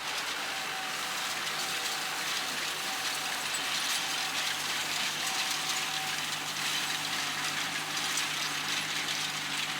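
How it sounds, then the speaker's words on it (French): A farm tractor runs with a rotary hay tedder spinning behind it, giving a steady, even mechanical drone with a rattling, whirring texture. It holds constant for the whole stretch, with no voices. "Voici l'agriculteur sur son tracteur, avec un drôle de tourniquet à l'arrière."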